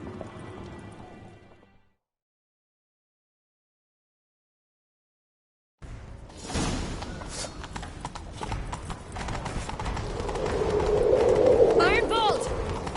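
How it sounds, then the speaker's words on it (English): Horse hooves gallop in The Witcher 3 game, a rapid clip-clop that starts after a few seconds of silence, with brief speech at the start and rising background noise and effects. "Grab a horse, we'll chase him down."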